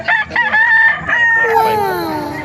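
Gamefowl roosters crow loudly and close at a farm in Bocaue, Bulacan, with one long cock-a-doodle-doo rising over overlapping calls and clucks from other birds nearby.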